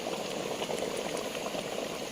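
Chicken for biryani simmering in a pot over a low gas flame, cooked without added water; a steady, close bubbling and sizzling hiss runs evenly throughout with no talking.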